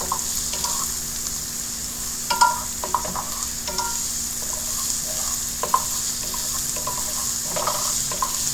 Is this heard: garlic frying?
yes